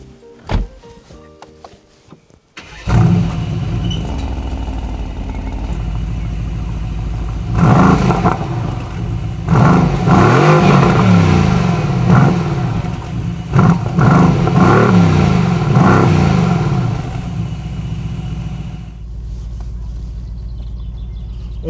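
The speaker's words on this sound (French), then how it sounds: "AMG a vraiment très bien travaillé le système d'échappement de l'AMG GT-R, le son est fantastique" Mercedes-AMG GT-R twin-turbo V8 with triple rear exhausts starting up and then revving repeatedly, a loud deep rumble swelling and falling in sharp blips before settling back to idle.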